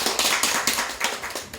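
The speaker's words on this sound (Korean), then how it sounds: "우리 박수 한번 칠까요?" A group of people listening to a forest guide's talk outdoors clap together, a dense run of overlapping hand claps lasting under two seconds at moderate volume.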